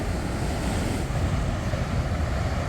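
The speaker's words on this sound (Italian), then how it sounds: "Che onde, mamma mia." Ocean waves off the coast of Spain, seen from a camper trip, roar in a dense continuous wash with heavy wind buffeting the microphone, loud and unbroken, no voices.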